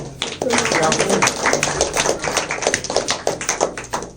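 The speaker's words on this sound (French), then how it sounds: "je pense qu'on peut applaudir" Applause from the audience at the opening of a humanitarian crisis-management serious game, a dense patter of clapping hands that fills the whole stretch at a steady level, close and fairly loud, with a voice or two mixed in.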